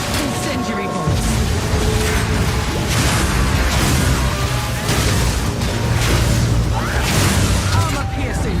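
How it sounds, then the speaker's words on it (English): Incendiary crossbow bolts fired in the Path of Exile 2 video game, a dense continuous barrage of booming bursts and whooshes lasting several seconds, loud and close. "Incendiary bolts."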